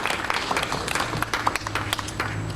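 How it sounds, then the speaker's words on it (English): An audience at a cricket event gives a short burst of applause, brisk clapping from a crowd heard close and steady throughout. "Ellyse, could you please give her a round of applause?"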